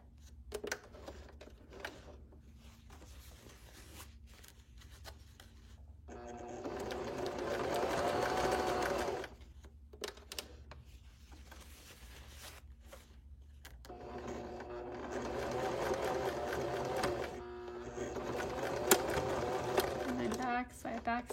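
Hand-cranked sewing machine stitching fabric: two long runs of rapid mechanical stitching chatter, separated by quieter stretches of faint ticks and clicks, all fairly soft and close.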